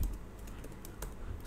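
Quick, light keystrokes tap on a computer keyboard, a faint irregular patter of clicks at close range with no voices.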